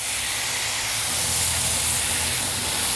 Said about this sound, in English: So we should be able to get a decent sear on some of these yams here.